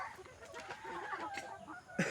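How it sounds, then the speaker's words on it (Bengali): Native chickens and roosters on a poultry farm cluck in short, scattered calls, fairly close, with a sharper louder call near the end and low farmyard background. "এখানে মোরগ আছে, মুরগি আছে।"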